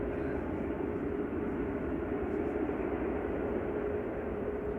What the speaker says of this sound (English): Nice and noisy that though, coming in. That's A6EUQ coming in from Dubai with flight 21